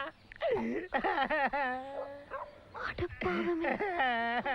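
Dog-like yelps, whimpers and bow-wow barks in a comedy film scene, loud and close, tangled with shouted voices almost continuously through the scene.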